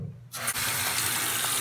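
Water hisses from a spray or tap while freeformed hair is being washed, starting abruptly after a brief low rumble and then running steadily and fairly close with no talk.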